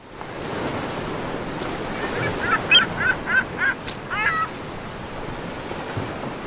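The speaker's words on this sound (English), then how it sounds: "there's the sound of the seagull." Seagull calls over ocean waves, a short run of bright, repeated squawks in the middle of the clip above a steady wash of surf and wind.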